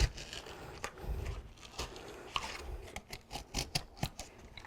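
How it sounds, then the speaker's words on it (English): Scissors snip through glue holding a foam board mold box together, a close, quiet series of crisp cuts that grows quicker and more rhythmic toward the end. "Once again, cut only the glue."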